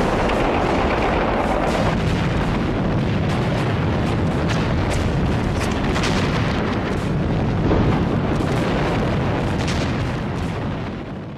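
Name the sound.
Japanese gunfire and artillery on Iwo Jima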